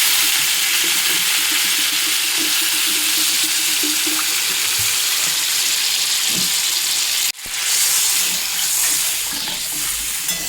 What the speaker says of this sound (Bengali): তখন এর মধ্যে জল দিয়ে দেব।